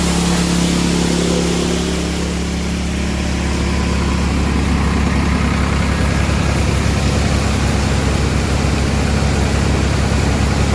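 A loud, steady tractor engine at about 1400-1500 RPM rumbles close by while running a chickpea thresher, a heavy low drone mixed with dense mechanical clatter and rushing noise, continuous for the whole stretch.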